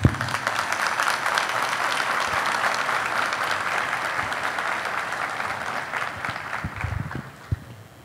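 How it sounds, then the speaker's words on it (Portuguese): A crowd applauds at a conference opening ceremony with steady, dense clapping that holds throughout before thinning out into a few scattered claps at the end. "pedimos que recebam agora uma calorosa salva de palmas"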